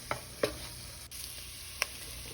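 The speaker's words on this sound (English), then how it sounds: "Stir it to coat the vegetables and let it cook for about a minute." Flour-coated vegetables for a beef stew are stirred in a pot, giving a soft, low sizzle punctuated by a few sharp scrapes and clicks of the spoon against the pan.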